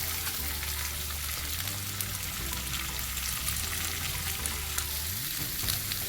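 Cauliflower and other vegetables fry in a pan with a continuous loud sizzle and light stirring, a low hum running beneath, no talking.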